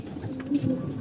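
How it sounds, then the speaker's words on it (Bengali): Pigeons in a loft give a short, low coo, a soft rolling call close by over faint background noise. "এতে আমাদের কবুতরগুলো আপনি দেখতে পাচ্ছেন"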